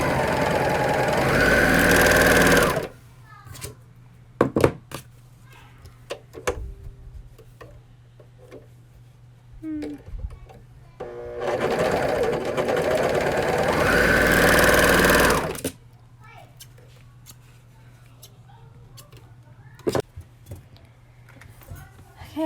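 A sewing machine stitches a seam in two steady, sustained bursts. Quieter handling clicks and fabric shuffling fill the pauses between them.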